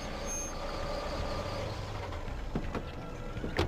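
A cartoon vehicle arrives with a drone of engine rumble, then sharp, evenly spaced reversing beeps near the end, fairly faint and without talk.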